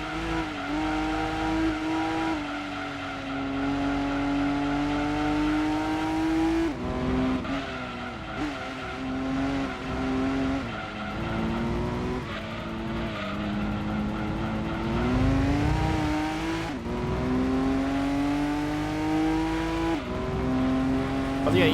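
Race car engines roar continuously during an endurance race at Grand Valley Speedway in Gran Turismo 2 on the PlayStation, with rising and falling revs through gear changes and occasional tire squeal, loud and close throughout.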